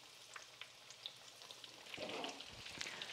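Dutch-style meat patties of about 100 grams each sizzle in a pan, a steady crackling fry with scattered pops that thickens toward the end, heard close and alone.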